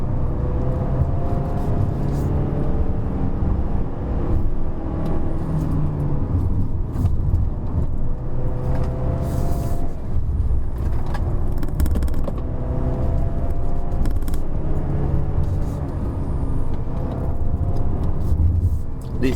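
A 2019 Mazda CX-5 2.5L turbo AWD SUV pulls uphill in sport mode and third gear on a mountain road, its engine a loud steady drone with rising pitch sweeps as it climbs, while people talk over the noise inside the cabin.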